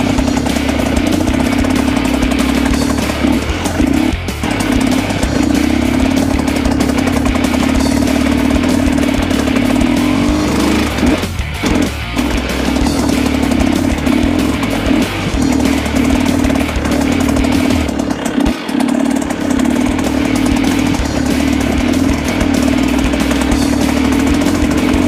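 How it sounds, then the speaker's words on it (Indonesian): A Naro ND 150E trail motorcycle engine runs steadily throughout, a loud, close, continuous drone with slight shifts in pitch while riding around an avocado orchard in Lampung. "kontrol kebun menggunakan motor Naro"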